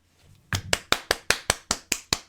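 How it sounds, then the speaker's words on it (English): A single pair of hands clapping nearby, nine sharp evenly spaced claps in a steady rhythm after a brief soft rustle, with no talking. "Applause, applause, applause."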